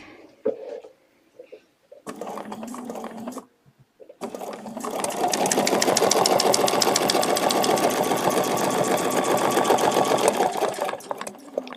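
A sewing machine stitching a quilted feather design with a ruler template: short stop-start bursts, then a long steady run of rapid needle strokes with a motor hum, close and loud with no talk.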